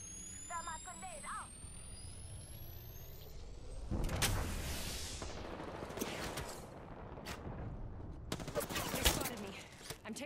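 Gunfire in a shooter game, scattered bursts of shots over a rumbling engine-like background, with a sharp high whine early on and a cluster of loud cracks near the end.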